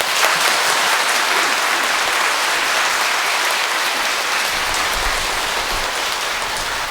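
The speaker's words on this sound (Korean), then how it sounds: "다 같이 우리 축하의 박수를 좀 보내주시죠" A church congregation applauds their parish priest at a thanksgiving Mass for his 30th ordination anniversary, with dense, steady clapping filling the hall at an even level throughout, with no talk over it.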